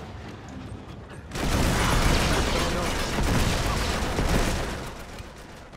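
Continuous rattling turret gunfire in Uncharted 3, a steady dense fusillade that starts abruptly and holds loud and close for several seconds, with little speech over it.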